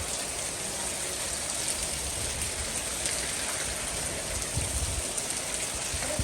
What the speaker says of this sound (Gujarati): જો વાવાઝોડું આવ્યું છે, શરૂ વરસાદ છે